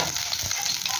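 Oil sizzling in a hot pan while cooking tomato sambar, a steady, close, continuous hiss and crackle with no talking.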